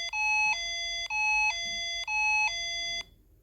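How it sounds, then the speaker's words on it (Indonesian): A synthetic two-tone ambulance-siren alert from a BMKG earthquake-info browser extension, set to a clock sound theme, alternates high and low notes through about three cycles, clean and alone, then cuts off. "Sirine ambulan itu kebetulan suara jam yang ada di tema suara saya."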